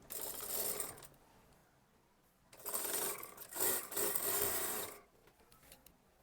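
A sewing machine stitches the kali joint of an Anarkali kurti in two bursts, a shorter run first and then a longer, louder one after a pause, with faint background between.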